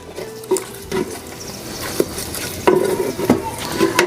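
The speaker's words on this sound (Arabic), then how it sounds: "ورقتين غار، ملح حتى الحمام يبخ ميته، تحريكة خفيفة" Pigeons cooking in a clay pot with bay leaves and salt are lightly stirred: a soft bubbling sizzle under irregular scraping and knocking strokes of a utensil against the pot, close and with no voices.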